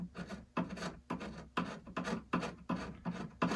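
Scraping old Scotch tape repair off an antique reproduction wooden mule chest, seven rhythmic rasping strokes about half a second apart, close and fairly quiet, with no talking.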